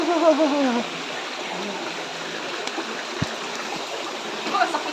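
A stream flows with a continuous, fairly close rushing trickle. A voice sounds briefly at the start, and faint splashy ticks appear within the steady flow.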